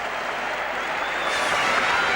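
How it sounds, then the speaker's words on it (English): A packed stadium crowd roars steadily through the opening ceremony of the 1982 Brisbane Commonwealth Games, a dense, continuous wash of cheering and applause that swells slightly toward the end. "The crowd really roaring now"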